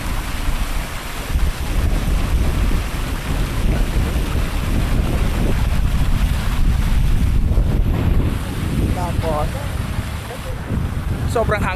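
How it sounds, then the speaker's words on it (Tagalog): Strong wind buffets the microphone at Baybay Beach Park in Roxas City at night, a loud continuous roar with rumbling gusts throughout, over distant surf and faint background activity. "Sobrang hangin."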